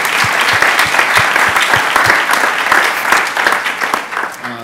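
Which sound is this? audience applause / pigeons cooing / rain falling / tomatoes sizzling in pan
audience applause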